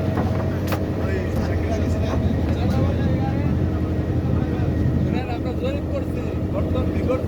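A trawler's engine drones in a low, steady rumble while cruising on Kaptai Lake in Rangamati, loud and continuous, with people talking over it.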